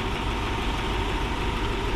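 A 2002 Lexus SC430's engine runs smoothly, a steady low hum with faint even vibration, close by and without talk.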